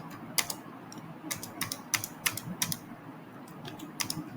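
Keys on a computer keyboard clatter as a password is typed, a series of crisp separate clicks in short bursts against a quiet room hum.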